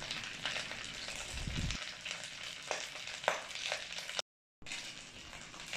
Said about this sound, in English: Listen to that sizzling sound.